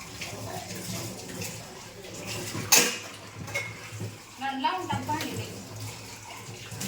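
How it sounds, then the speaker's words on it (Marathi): Steel dishes set onto a double rack in a home kitchen, with clinks and clatters of metal against metal and a sharp clang partway through, under a running tap and people talking. "तर मला एवढे भांडे डबल रॅकला लावायचे"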